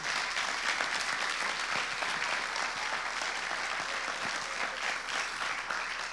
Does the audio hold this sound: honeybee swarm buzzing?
no